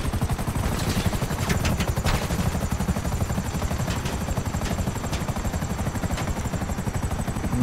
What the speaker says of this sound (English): I hate these plane helicopters.